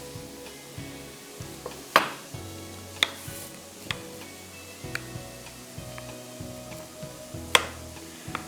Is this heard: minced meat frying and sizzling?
yes